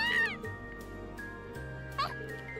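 A cat meows in the video game Trails of Cold Steel, two short meows close up over soft game music and a steady tone.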